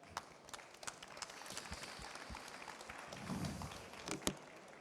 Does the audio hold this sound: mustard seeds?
no